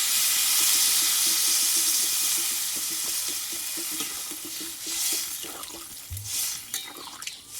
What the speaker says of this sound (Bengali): এবার এখানে আমি জল দিয়ে দেবো এখানে দেবো নর্মাল জল